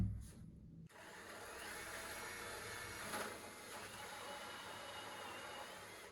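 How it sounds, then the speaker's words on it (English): A power drill with a 2 1/8 inch bit bores a hole through a slab door, a continuous whirring grind that starts abruptly after a brief pause and holds at an even level, close by. "we're going to use a 2 1/8 inch drill bit, line it right up here in the hole"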